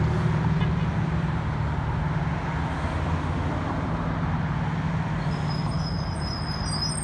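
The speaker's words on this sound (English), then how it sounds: "So, see a bus coming." A city bus draws near through street traffic, a continuous low engine rumble with road noise that stays steady and fairly close, joined near the end by a faint high whine.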